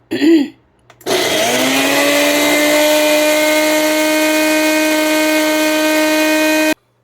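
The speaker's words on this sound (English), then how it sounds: "And this is half a tablespoon of coconut oil. And we're going to blend it." Kitchen blender switches on after a brief clatter and runs as a loud, steady high-pitched whine while blending walnuts with half a tablespoon of coconut oil, holding constant for several seconds before cutting off abruptly.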